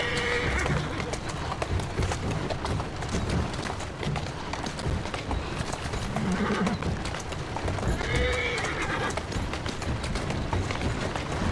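A horse whinnies twice over a steady, busy background of hoofbeats and movement in the video game Assassin's Creed Syndicate.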